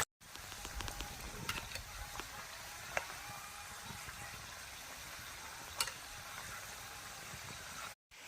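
Khaja pastries fry in hot oil with a steady, even sizzle that holds close and fairly loud from start to finish, with no voices over it.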